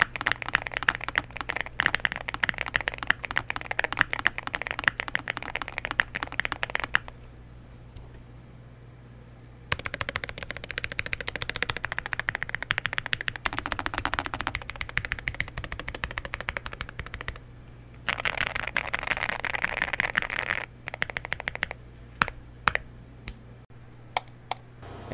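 Typing on a Nuphy Nos75 gasket-mount mechanical keyboard: rapid, dense bursts of key clicks, close and fairly quiet, with a couple of pauses and a few scattered single keystrokes near the end.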